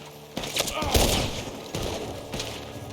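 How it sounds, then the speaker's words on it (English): Gunfire from Red Dead Redemption 2, several loud overlapping gunshots and echoing volleys spread across the clip, with a voice talking faintly underneath. "Oh, you're shooting at me from the barn?"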